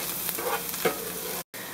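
A plov mixture being stirred in a frying pan, with sizzling and scraping at close range. It is briefly interrupted by a sharp dropout near the end, and no one speaks.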